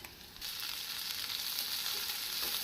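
Onions sizzle and hiss steadily in a hot pan, a soft continuous frying crackle with no voices.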